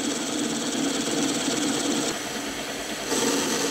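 A lathe turns a workpiece during plain turning and facing, giving a steady mechanical hum and whir that holds at an even level with slight shifts in tone and no talking.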